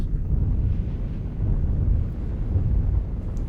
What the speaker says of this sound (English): And there's some wind.